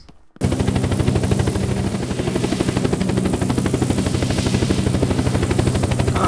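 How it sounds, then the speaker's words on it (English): A helicopter in the video game Unturned starts up abruptly and then holds a loud, rapid, steady rotor chop close by, filling the whole stretch without any voices. "I don't know if you can hear me over the helicopter"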